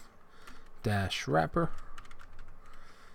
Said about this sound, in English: I'm going to type in nav, hit tab.